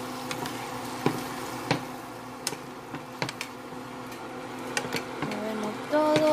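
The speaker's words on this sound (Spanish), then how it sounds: "Removemos." Fresh cod being stirred in a coconut milk sauce in a pan, with soft sizzling and scattered spoon scrapes and clicks against the pan at moderate volume.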